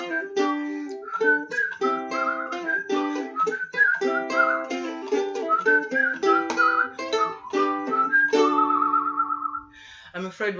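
A close, bright whistled melody of quick notes and short phrases that carries on steadily, ending on a wavering held tone.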